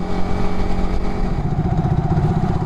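Yamaha R15 V3 motorcycle ridden with a pillion passenger on a road approaching a flyover toll plaza, a steady loud engine drone with wind rush, close and continuous.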